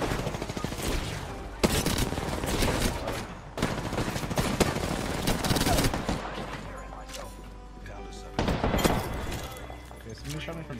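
Gunfire in the Apex Legends video game, bursts of rapid shots crackling in clusters with brief gaps between volleys, under and alongside a player talking.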